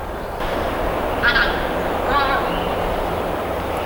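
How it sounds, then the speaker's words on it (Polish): Geese fly overhead, giving two short bursts of distant honking against a steady outdoor wind-like hiss in an open bird-watching spot. "nade mną jeszcze gęsi przelatują."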